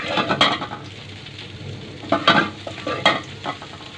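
Dried chillies and nigella seeds frying in hot oil, a close sizzle that swells in bursts as a spoon stirs and scrapes the pan, with no speech.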